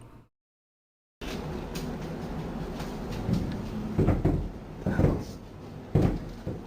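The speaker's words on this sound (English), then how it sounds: "that sounds like somebody knocking on the door" After a brief silence, a few dull knocks or thumps on a door land at irregular intervals over a low background rumble, with no voices.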